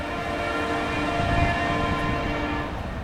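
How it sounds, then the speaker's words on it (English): A CSX freight train, symbol L356, passes close by while its horn blares in one long, steady, loud blast over the rumble of the cars. "He's laying on the horn"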